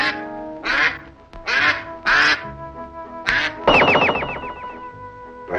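A duck quacks loudly nearby in a string of separate nasal calls, ending in a longer rattling quack over a faint background tone.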